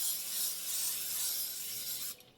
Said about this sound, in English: We're spraying the casserole dish.